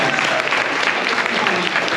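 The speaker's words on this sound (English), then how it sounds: "Let's give Adam a big cheer," Audience at a reselling summit Q&A session bursting into applause for a speaker, a dense, loud, continuous patter of clapping hands filling the room.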